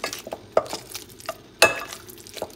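Pumpkin is mashed with butter in a bowl, producing irregular soft squishes and several sharp clinks of the utensil against the dish, close and fairly quiet.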